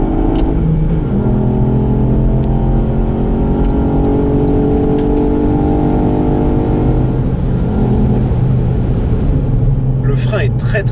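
A 2018 Ford Fiesta ST engine roars loudly and steadily, climbing in revs and bouncing off the limiter, with a harsh sustained drone throughout.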